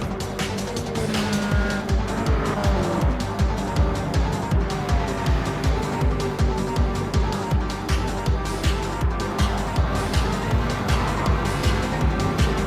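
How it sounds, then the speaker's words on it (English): Race cars thunder continuously around a track, their engines loud and layered, with repeated passes and tire noise blending into a dense, steady roar. "And the Roadster leads the race"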